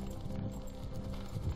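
Horses clip-clopping in the video game Warcraft 3, soft rhythmic hoof beats over a low background drone, faint and distant, no talk.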